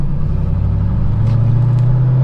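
Blue 2004 commemorative edition C5 Corvette pulling away, a steady loud low engine rumble heard from close by with the pitch rising slightly as it accelerates.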